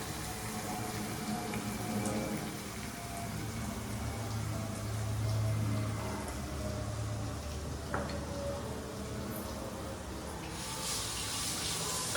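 Water poured into a pan of mutton curry on the stove, a steady running and splashing wash that swells briefly midway and continues close and moderately loud, with no talk.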